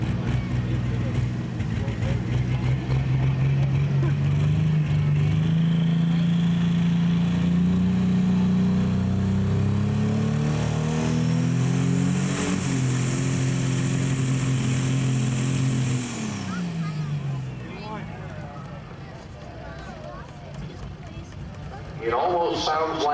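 An International 1066 pro stock pulling tractor roars under heavy load at a tractor pull, its engine note climbing and then turning rough and uneven before dropping off, loud and close with a commentator talking over it.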